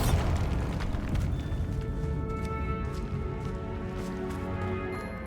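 The Bombarda spell explodes in Hogwarts Legacy, a heavy booming blast that rumbles low and loud, then decays slowly into a sustained roar with ringing tones.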